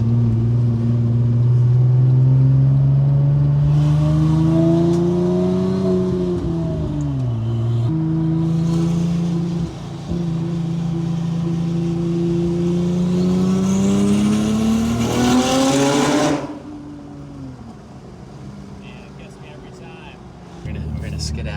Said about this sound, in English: Any car guy, you hit a tunnel, you gotta hit the gas.